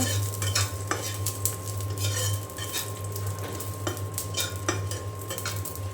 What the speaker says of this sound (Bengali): এখানে যে সরিষার তেল দিয়ে মরিচ ভেজে নিচ্ছে